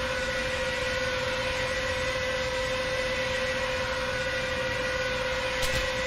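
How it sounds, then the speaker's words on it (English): Air raid sirens in a Battle of Britain flight game with a Ju-87, heard as a loud, steady sustained wail over constant engine drone, with no talk. "My eardrums are being blown out by the sirens right now."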